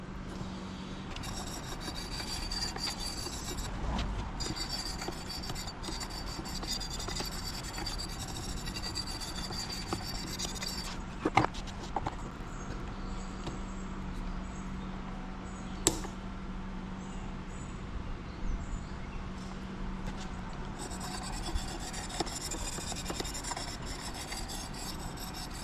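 A Bowie knife blade is drawn repeatedly across an 800 grit sharpening stone held in a modified jig, a close, continuous gritty rasping of steady strokes with a few sharp clicks along the way.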